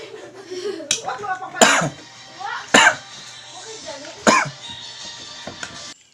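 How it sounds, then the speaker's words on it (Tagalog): Three sharp, loud coughs spaced a second or so apart, with quieter breathy sounds and murmuring between them, close to the microphone. "grabe nga palang ubo-ubo ko"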